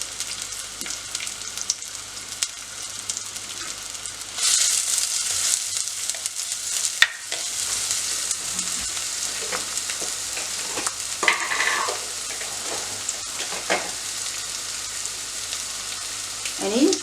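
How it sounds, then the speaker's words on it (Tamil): Onions fry in hot oil for the tempering of Mor Kulambu, a steady close sizzle that jumps louder as more goes into the pan, with occasional stirring scrapes and clinks. "இனி நாங்கள் இதுக்குள்ளே தாளிக்கிறதுக்கு ஓரளவு வெங்காயம் பற்றி வச்சுருக்கேன்."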